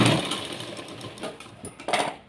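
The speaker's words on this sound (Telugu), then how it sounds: "ఇలా పావించ తేడాతో ఇలా మిషన్ స్టిచ్ వేసేసుకుంటే" A sewing machine stitches a blouse, a short close whirring run with uneven bursts of motor buzz and no voices.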